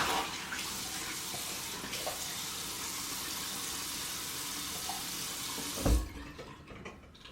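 Tap water runs steadily into a sink while shave soap is rinsed off, a close, continuous hiss that stops abruptly with a soft thump near the end.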